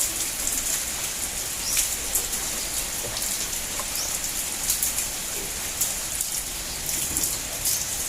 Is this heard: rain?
yes